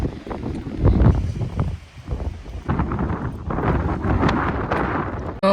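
Strong gusts buffet the microphone outdoors during a walk, a steady roaring rumble that swells and dips throughout, with rustling mixed in and no talk.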